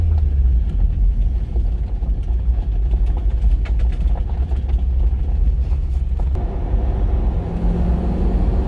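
A supercharged Corvette Z06 engine with an LS9 cam and positive displacement blower rumbles steadily at close range while driving, a deep continuous drone with slight surges, with no talking.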